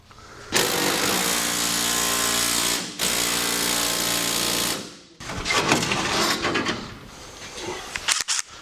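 A power tool undoes an old rusty bolt on a 53-year-old Corolla. Two loud sustained bursts of whirring hammering are separated by a short gap, followed by rattling clatter and clinks up close.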